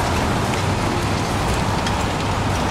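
Steady, heavy rain in the video game Heavy Rain, a loud, dense, continuous hiss of falling drops with no breaks.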